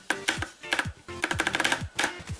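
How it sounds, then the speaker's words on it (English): Spacebar of a GearHead 92-key mechanical keyboard with Kailh red switches and a wire stabilizer, pressed repeatedly in quick clusters, each press a sharp clack with a slight metallic ring, close and clear. "Here's the Spacebar sound test."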